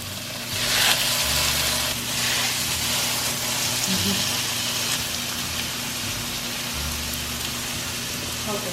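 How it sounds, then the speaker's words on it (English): Steady broadband sizzle of chicken frying in hot oil, continuous and close, with a low hum and faint voices in the background. "Ooh, that's sizzle."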